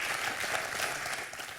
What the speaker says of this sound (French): Pierre applaudit par Valérie, par Hervé.